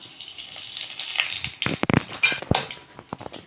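A bay leaf and black cumin seeds crackle in hot oil for a Bengali elephant-foot-yam curry, a soft hiss at first giving way to sharp spitting pops and metal utensil clatter close by.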